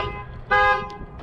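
A 2018 Ford F-150 pickup sounding a single short, bright horn chirp as it locks with the alarm set, heard after low background noise and followed by quieter clicks.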